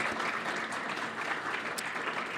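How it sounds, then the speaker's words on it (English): Meeting attendees give a round of applause, a soft, even wash of many hands clapping at a distance, continuous and fairly quiet throughout. "let's have another round of applause"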